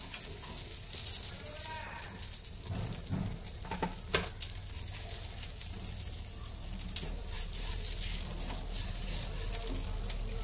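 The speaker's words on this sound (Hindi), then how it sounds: "अब इसको लो फ्लेम पर भूनना है" Amla (Indian gooseberry) with garlic frying in a pan over a low flame, making a steady crackling sizzle with occasional stirring clicks and scrapes close by throughout.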